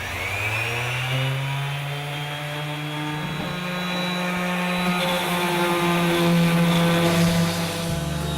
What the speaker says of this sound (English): I'm going to just give it a light sanding